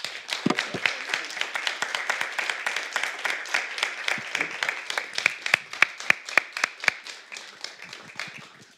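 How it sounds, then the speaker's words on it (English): Scattered hands clap after a conference talk on natural resources and commodities trading, a thin crowd whose individual sharp claps stay distinct and gradually thin out toward the end. "So I'd like to conclude with a big applause"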